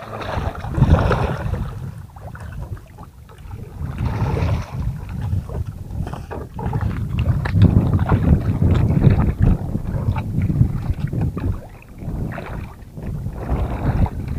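A small wooden outrigger boat carries people over open water near a mussel and oyster farm, with continuous sloshing water and gusty wind buffeting the microphone, steady and fairly loud throughout.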